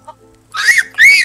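A chicken in the video game Mini World gives two loud, close, squawking clucks in quick succession after a brief faint chirp, with no talk over it.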